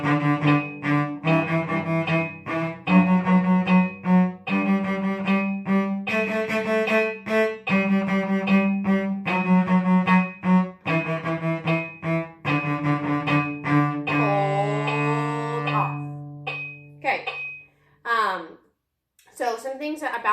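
A bowed string instrument plays a slow beginner warm-up exercise, a run of short repeated bow strokes in steady rhythm, with a sliding passage and scattered breaths or noises near the end.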